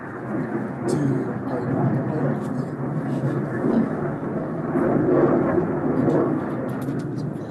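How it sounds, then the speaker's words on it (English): A military jet taking off from a nearby airport, heard as a continuous low roar that swells and rumbles throughout, with voices faintly present in a meeting room. "Is that a military jet?"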